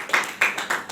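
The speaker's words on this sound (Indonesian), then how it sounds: "Beri tepuk tangan dulu bagi Tuhan." Church congregation clapping in a quick run of three bright claps, close and loud with no talk.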